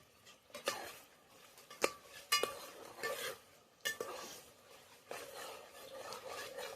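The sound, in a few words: sautéing mutton curry in a pot on a chulha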